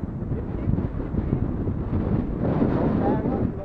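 Strong wind sweeps across the crest of the Bang Phra reservoir dam in Chonburi during a bicycle ride, a loud, steady roar buffeting the microphone close up throughout.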